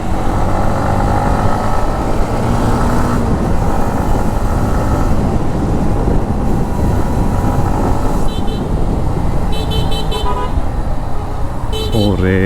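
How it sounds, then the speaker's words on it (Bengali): A motorcycle runs along a road with a constant loud engine drone and wind rush. Other vehicles' horns toot briefly near the end, and a rider's voice talks over the ride. "চলেন বাইকের আওয়াজ শুনি"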